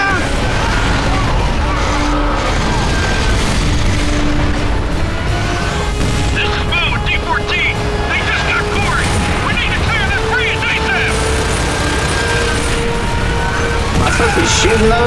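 Tank cannon fire and explosions from a Gears of War 2 battle involving a Centaur tank, dense and continuous booming over rumbling vehicle noise, loud throughout with radio chatter and talk layered on top.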